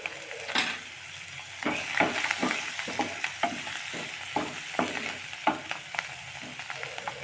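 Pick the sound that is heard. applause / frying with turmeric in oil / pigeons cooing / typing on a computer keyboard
frying with turmeric in oil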